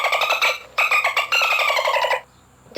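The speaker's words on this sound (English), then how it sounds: "Dolphin." A dolphin gives bursts of rapid, high chirping whistles and chatter in three close groups, then falls quiet, loud and up close.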